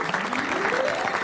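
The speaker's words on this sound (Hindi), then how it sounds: "डॉक्टर स्नेहा के लिए तालियां।" An audience claps at a sexual health awareness session in Bihar, a brief, dense and steady patter of applause with a voice faintly audible over it.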